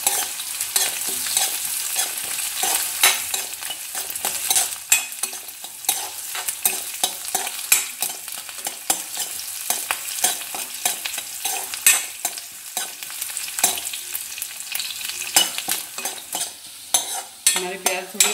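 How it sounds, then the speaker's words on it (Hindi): Curry leaves fry in hot oil in a pan for tomato sambhar, with a loud, close crackling sizzle and continual scraping stirs running throughout. "और करी के कुछ लीफ डाल देते हैं।"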